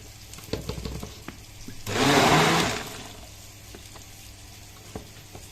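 An electric blender blending Syrian garlic sauce (toum) roars in a single loud burst of about a second, after some light clattering and before quieter kitchen handling noises.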